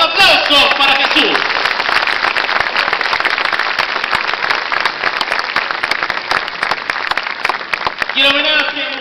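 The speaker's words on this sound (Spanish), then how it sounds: "¡Más fuerte los aplausos para Jesús!" Loud, dense applause from a crowd at a street religious procession honoring the Señor del Santuario de Santa Catalina in Cercado, a continuous roar of clapping with a voice or music briefly audible at the start and end.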